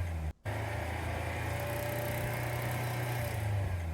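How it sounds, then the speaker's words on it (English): A car vibrating and rattling, a steady low drone with a faint buzzing rattle on top, constant and moderately quiet apart from a brief dropout near the start. "weird like rattle that comes from it when it gets to the certain like point. You can hear the whole car vibrate."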